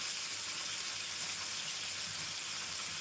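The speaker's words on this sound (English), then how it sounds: "it is just frying over there" Food frying in a pan while cooking a traditional Namibian dish, a steady, dense sizzle that holds evenly throughout with no talk over it.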